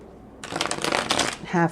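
A deck of oracle cards being shuffled by hand in a quiet room, a short run of rapid riffling flutters after a brief pause, ending with a faint voiced sound.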